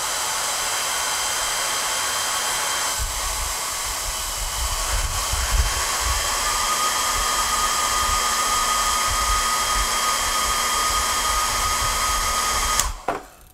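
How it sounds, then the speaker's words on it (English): A hairdryer warms a Radeon R9 270X graphics card to ease soldering for a memory voltage and capacitor mod, a loud, steady blowing whoosh with a constant hum that runs unbroken before cutting off abruptly near the end. "we'll hit it with the hairdryer"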